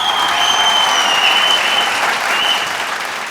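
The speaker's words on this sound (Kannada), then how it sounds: "ಈ ಪರ್ಟಿಕ್ಯುಲರ್ ಎಪಿಸೋಡಲ್ಲಿ ಆ ಒಂದು ಪಾಯಿಂಟಿಗೆ ನಿಮಗೆ ಚಪ್ಪಾಳೆ ಕೊಡ್ತಾ ಇದ್ದೇನೆ" Studio audience applause on a reality show set, a loud dense wash of clapping from many hands throughout, with a faint whistle-like tone running over it.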